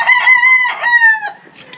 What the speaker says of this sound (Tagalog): Ang ano, ang huni ng mga manok.